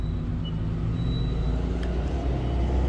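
Nearby car traffic makes a steady low rumble throughout, with a faint high tone and a brief hiss of passing noise, and no voices.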